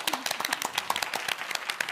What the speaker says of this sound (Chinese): 掌声欢迎郑医生。